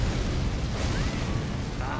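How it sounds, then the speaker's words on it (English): Explosion in the Elden Ring game, heard as a dense, sustained roar of broadband rumble and noise over the full two seconds with no clear silence around it, filling the mix. "Ah, stupid explosion every time,"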